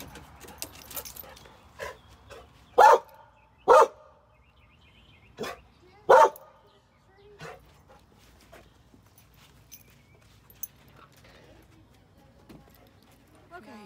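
A dog barks at a tree outdoors: three loud, sharp barks stand out near the start and middle, with fainter yaps and rustling between them, while a person speaks to it.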